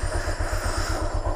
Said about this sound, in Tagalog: Papainit lang ako ng konti ng makina at biyahe na tayo.